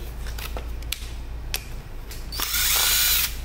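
Makita DTD156 cordless impact driver with a 5 Ah battery and torx screw bit gives a few brief taps, then a loud close whirring burst of about a second before stopping.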